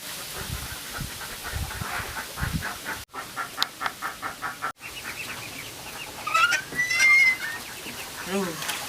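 Chickens cluck repeatedly in short bursts, fairly close, with a soft hiss in the background and a few higher squawks toward the end.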